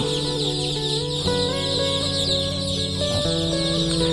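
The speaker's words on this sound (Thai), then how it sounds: "เป็นลูกไก่บ้านแท้นะครับร้อยเปอร์เซ็นต์นะครับ" A crowd of native Thai farm chicks cheeps continuously in a dense, high chorus, close and steady, with a few lower clucking tones beneath.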